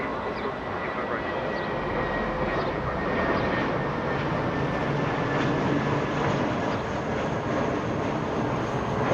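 A JetBlue Airbus A320 passenger jet in Red Sox livery taking off, a steady broad engine roar holding at moderate distance throughout, with faint tonal whine running underneath.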